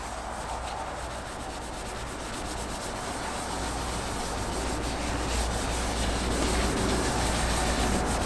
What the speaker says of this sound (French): Et on frotte et on frotte.